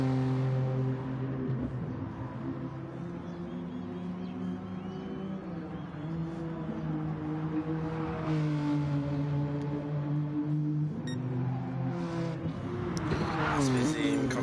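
A GT4 race car in Gran Turismo at Dragon Trail Gardens, engine droning steadily through a hairpin and corners with shifting pitch, upshifts audible, heard under continuous commentary.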